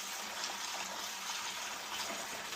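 Air and water rush out through the open test valves of a Febco 850 double check valve backflow assembly, a steady loud hissing gush that holds constant without pause.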